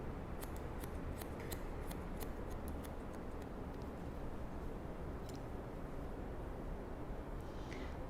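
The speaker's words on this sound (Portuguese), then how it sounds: "segue com a pontinha da tesoura." Scissors snip through short curly hair during a haircut, giving a run of quick, close metallic clicks over steady background hiss, with no talking.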